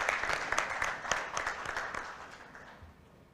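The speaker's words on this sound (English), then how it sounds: "I request everyone to kindly give a round of applause" An audience at a wealth summit panel discussion applauding, a steady burst of many hands clapping that gradually fades out toward the end.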